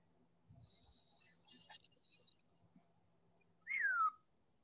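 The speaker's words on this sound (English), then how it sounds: "What's that whistle?" A short, clear whistle with a falling pitch sounds once near the end, loud against a quiet background, after faint scattered noises during a lecture.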